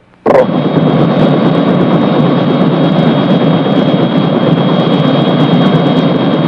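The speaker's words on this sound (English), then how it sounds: "isn't that your helicopter over there?" A helicopter arriving: a sudden onset followed by a loud, steady turbine whine and roar that holds unbroken and close throughout.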